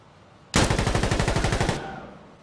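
Rapid automatic gunfire rattles out in a loud, steady burst of about a dozen evenly spaced shots during a competitive first-person shooter match, then trails off into a fading echo.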